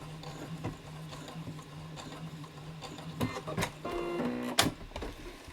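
A sewing machine top stitching and lock stitching a small fabric heart, giving a faint mechanical whir with scattered clicks and rattles that build into a few sharper clatters near the end, heard close and without talk.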